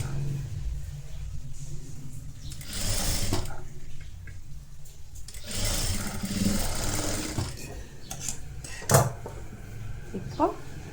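A sewing machine stitches a folded blouse seam in short bursts of rapid mechanical whirring separated by pauses, with a few sharp clicks and light handling noises near the end.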